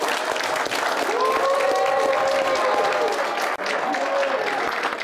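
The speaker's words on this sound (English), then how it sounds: "give your parents, your families, and all the support teams that really work with you a big round of applause" A large crowd at a college football event breaks into loud, dense applause that continues throughout, with some cheering voices mixed into the clapping.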